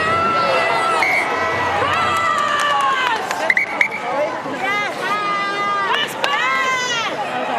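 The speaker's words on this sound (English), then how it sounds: "Listen to the crowd." A large crowd in the stand at a women's Premiership rugby match between Exeter Chiefs and Bristol Bears, roaring and cheering continuously, with whistles and a commentator talking over it.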